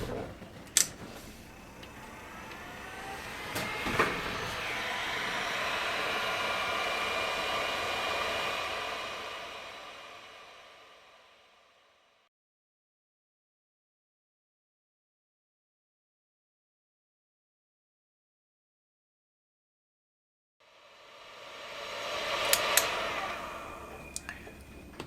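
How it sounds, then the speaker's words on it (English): Heat gun set to 160 degrees Fahrenheit drying a model ship part, a steady airy blowing hiss with a couple of sharp ticks, cutting out into silence midway and starting up again near the end. "the heat gun was set to 160 degrees Fahrenheit"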